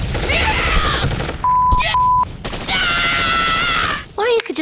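Rapid video game gunfire plays during strafing in an Xperia Play phone ad, with loud bursts of shots and a game tone over them, while a voice talks over part of the action.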